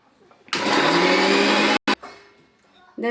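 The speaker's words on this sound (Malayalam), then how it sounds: "ഇനി നമുക്കിത് അരച്ചെടുക്കാം." A kitchen mixer grinder whirs loudly as it grinds onion, tomato and salt into chutney, a steady roar for about a second and a half before cutting out, then a brief second burst and fading rundown.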